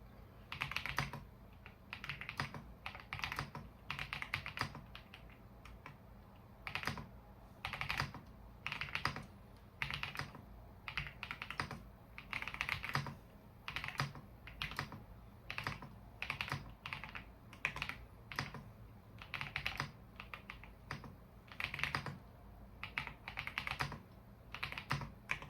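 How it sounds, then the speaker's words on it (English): Steady, fast typing on a 75% computer keyboard, close and clear, producing dense rhythmic bursts of keystrokes with brief pauses throughout and no voice over it. "Let's listen to how good this keyboard sounds."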